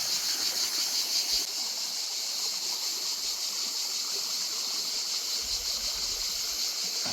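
Water streaming across a flooded path in a steady, close, broadband rush that stays loud and unbroken throughout, with no voices.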